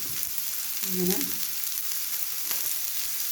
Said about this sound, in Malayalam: ഉപ്പിട്ട് നന്നായി വഴറ്റി കുറച്ച് നേരം മൂടി വെക്കാം